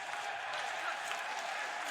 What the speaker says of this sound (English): And you can hear the crowd chanting for ENCE